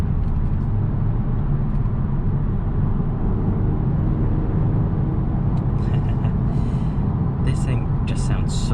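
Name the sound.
Genesis G70 3.3 twin turbo car engine driving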